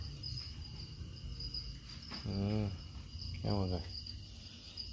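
Crickets chirping at a cricket farm, a steady high-pitched trill running throughout at modest volume, with someone briefly speaking twice in the middle.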